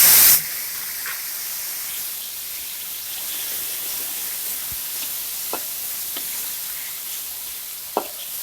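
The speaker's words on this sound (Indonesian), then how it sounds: "Ini kita tumis atau kita goreng cabainya sampai" Ground chili paste frying in a pan with shrimp paste, a steady close sizzle and hiss with a loud burst at the start and occasional pops and stirring clicks, no talking.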